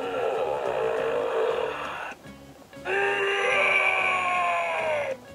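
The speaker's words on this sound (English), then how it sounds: "If you squeeze his belly, he talks." A Sulley plush toy from Monsters, Inc. plays its electronic voice lines when its belly is squeezed, two bursts of tinny, loud recorded growling speech with a short pause between them.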